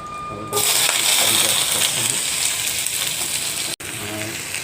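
Desi saag greens hitting hot oil in a village kitchen, a loud sudden sizzle that keeps crackling steadily with a brief dropout near the end.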